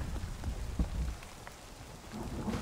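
Rainstorm with thunder in the video game The Cycle Frontier: steady heavy rain hissing on surfaces, with low thunder rumbles and a sharper crack near the start, continuous with no speech.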